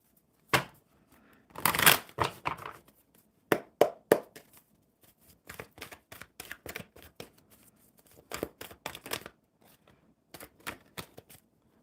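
A deck of cards shuffled at a table during a relaxed live card session: a series of close, crisp riffling and tapping bursts in uneven clusters, with brief pauses between rounds.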